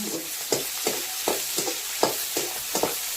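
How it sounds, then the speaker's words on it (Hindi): Chopped onions dropped into hot oil for a village-style mushroom curry, with a steady sizzle and regular stirring scrapes that hit roughly every third of a second. "तो तेल अच्छा से गरम हो गया है। तो चलिए अब प्याज डाल देते हैं।"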